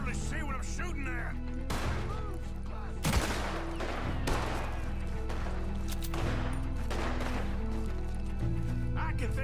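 Gunfire in the video game Red Dead Redemption 2, a series of sharp shots and volleys ringing out at intervals over a continuous musical score, with voices talking between them.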